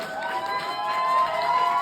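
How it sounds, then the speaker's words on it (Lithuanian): Audience at a Lithuanian evening event clapping and cheering, a dense, steady wash of crowd noise with no single voice standing out. "Paplokit be pavydo"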